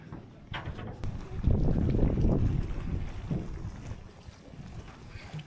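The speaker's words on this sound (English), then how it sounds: "At least the wind's blowing that way." Wind buffets the microphone outdoors in Iceland in a loud, rumbling gust that builds and then eases over a few seconds.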